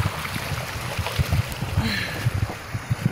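A waterfall on a mountain hiking trail, heard as a continuous rushing wash of water mixed with gusty wind buffeting the microphone, with no talking.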